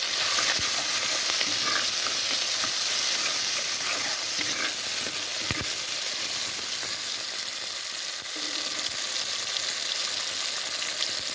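Fish curry ingredients sauté in a pan with a steady, close frying sizzle, broken by occasional scrapes and stirring knocks; no voices.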